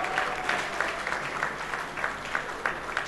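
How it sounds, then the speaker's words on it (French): Audience at a live comedy show applauds as a man is called up, steady clapping with periodic louder bursts running through the whole stretch, no talk over it. "applaudissez pour monsieur Bambok."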